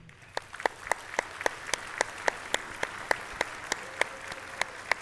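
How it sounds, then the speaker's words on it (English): Quiet applause at a community foundation awards event: a small audience clapping steadily, with a few crisp, close claps punctuating the soft, even patter. "I hope you can join me in one last round of applause to"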